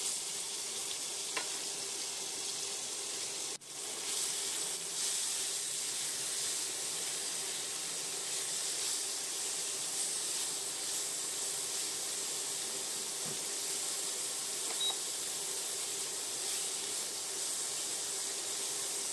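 Prawns fry in a small amount of mustard oil in a wok, a steady bright sizzle and hiss that runs unbroken for the whole stretch, with a faint clink or stir now and then.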